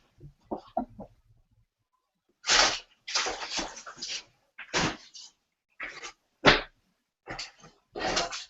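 Dogs in a room give a series of short, sharp barks and yelps in uneven bursts, close and fairly loud, with brief whimpering sounds early on and quiet gaps between.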